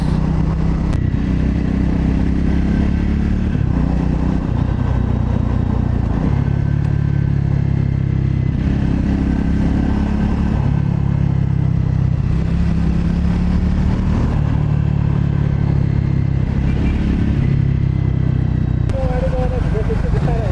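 A motorcycle ridden on open roads on a scrambling trip, its engine droning loud and close for the whole stretch, with pitch steps as it shifts down through the gears.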